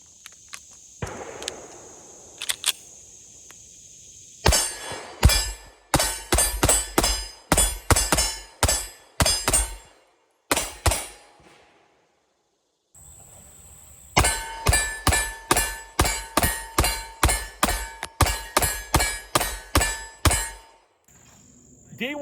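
Pistol fitted with a Derya DY9 ported island barrel fired at a range, sharp loud shots in rapid strings of evenly spaced reports, separated by pauses, with a few faint quieter sounds between strings.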